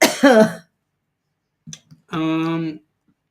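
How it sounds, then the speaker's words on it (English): Two short raspy coughs from a person with a very sore throat in a quiet room, separated by a pause, with a brief vocal sound at the start. "Coughing."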